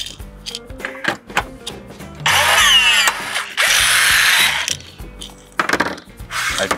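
A power drill whirs in two loud bursts, biting through metal sheet with a harsh grinding whine, between quieter clicks and handling noises.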